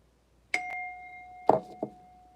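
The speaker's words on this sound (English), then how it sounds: "We'll strike a bell for you." A small bell is struck in quick pairs, four strikes in all, each giving a clear, bright ding with a sustained ringing tone that fades in a quiet room.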